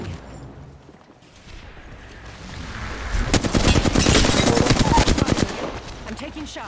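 Rapid automatic gunfire in the shooter game Apex Legends builds from a faint start into dense, loud bursts of shots over several seconds, with some talking mixed in.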